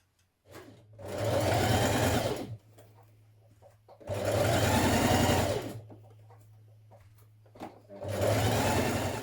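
Three close, loud bursts of a sewing machine understitching a dress lining around the neckline, each run lasting about two seconds with a low motor hum lingering in the pauses between.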